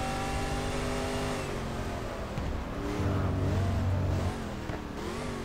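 A DeTomaso Pantera race car engine at Spa-Francorchamps in the video game GT Legends drones loudly and steadily, its pitch rising and falling with the throttle, with no voices.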